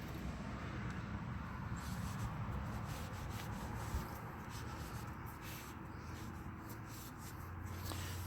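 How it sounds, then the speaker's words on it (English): A rag wiped with cleaner over a transmission pan gasket gives a close, soft rubbing and scrubbing noise, repeated back-and-forth strokes at low volume without talk. "We're going to clean it with a little cleaner and wipe it down."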